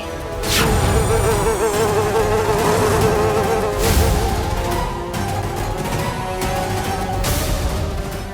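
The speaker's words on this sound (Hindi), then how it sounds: "कहाँ है वो महामक्खी?" A large fly buzzes loudly and continuously close by, its drone rising and falling as it moves around, with no voices over it.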